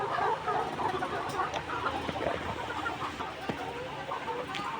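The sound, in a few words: chickens clucking on a poultry farm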